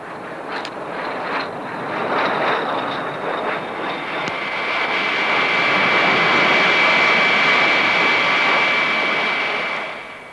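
A Messerschmitt 262 jet fighter from the Second World War passes with a loud, sustained jet-engine roar that swells and holds, a thin whine running above it before it fades near the end.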